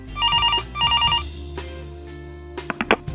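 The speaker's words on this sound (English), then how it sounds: "My phone is ringing." A telephone rings in the video game Todd the Zombie: two bursts of an electronic warbling ring, then a sustained low tone and a few short clicks or thumps near the end.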